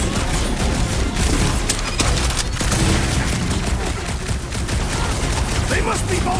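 Gunfire fills a combat scene in Marvel's Guardians of the Galaxy on PS5, with dense rapid shots and booming impacts running continuously under a loud game mix, voices mixed in.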